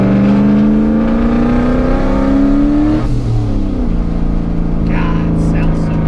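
80mm turbo Coyote Mustang on a dyno, engine climbing in a loud rising rev, then dropping off with a whoosh and settling before small bursts; close and powerful with no talk over it.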